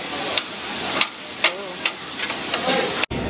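Food sizzling on a hibachi grill at a Chinese buffet, a loud steady frying hiss punctuated by sharp metallic spatula taps against the griddle every half second or so.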